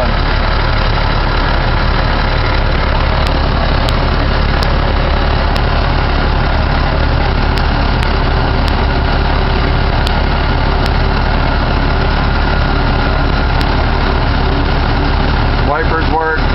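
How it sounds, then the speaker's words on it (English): A deuce and a half army truck with a Hercules multi-fuel engine idles close by in a steady, even low rumble that holds for the whole stretch without any voices. "Hercules multi-fuel engine."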